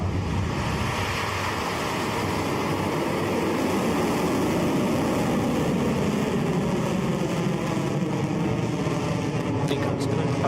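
Rocket Lab Electron rocket lifting off from its launch pad, a loud, steady broadband roar that holds unbroken from start to finish.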